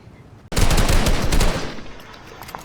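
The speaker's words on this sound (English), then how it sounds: "So these kids start shooting at us" Gunfire in a video game: a sudden, loud, dense burst of rapid automatic shots rattling continuously for about a second before thinning out, with no talk.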